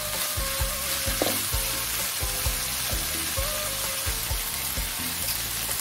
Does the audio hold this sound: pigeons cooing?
no